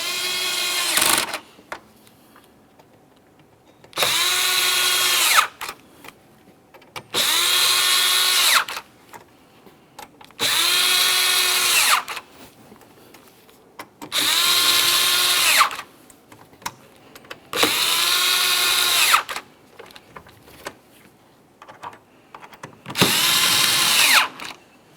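A power drill snugs the upper mounting hardware during a front parking sensor replacement on a 2017-2024 GMC Acadia, running in seven steady bursts of about two seconds each, separated by short pauses, close and loud with no talk.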